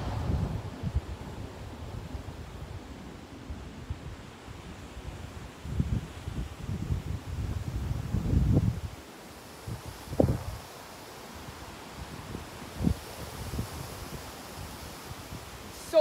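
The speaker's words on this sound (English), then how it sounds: "So windy out too." Wind blows outdoors in low, gusty rumbles against the microphone, swelling and fading in bursts before settling into quieter rustling.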